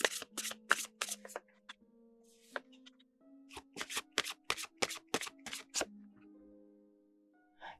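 Oracle cards are shuffled for a tarot reading in crisp, close riffles. Bursts of rapid card snaps are separated by short pauses, with a faint tonal hum underneath.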